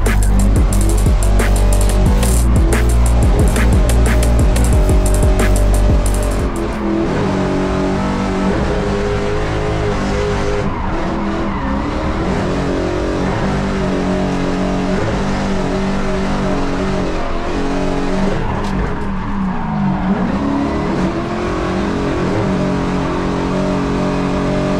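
A race car on its Pro 2 setup driving hard, engine revving loudly and steadily throughout, with a heavier burst in the opening seconds and a dense, continuous roar afterward; no tire squeal stands out.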